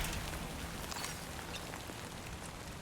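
Rain in the video game Death Stranding 2 patters softly and evenly with faint scattered drops, quiet and fading, and no voice over it.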